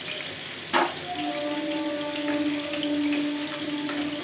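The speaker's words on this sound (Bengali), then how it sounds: "এবার আমি এই চিনির জল একটুখানি অল্প দিয়ে দিলাম এখানে" Sugar water is poured into a hot pan of fried, pre-boiled jackfruit, making a steady hissing sizzle with a sharp splash near the start, close and continuous with no talking.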